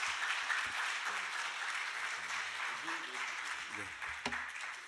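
Congregation applauding to welcome a pastor at a church Friday prayer revival service, a soft continuous wash of clapping with someone speaking over it.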